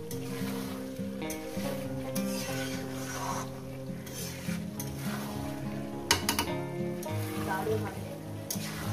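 Spices and vegetables for ridge gourd and potato poppy-seed curry sauté in a pan, with a steady close sizzle, occasional scraping stirs and a low tonal hum underneath.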